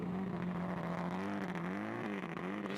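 A Subaru Impreza N4 production rally car drives through a rally stage, its engine droning at a steady pitch with slight rises and dips, a moderate, continuous note.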